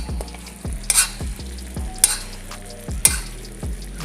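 Chicken for chicken francaise cooking in sauce in a pan, a steady close sizzle broken by regular clanking stirs of a utensil against the pan roughly every second.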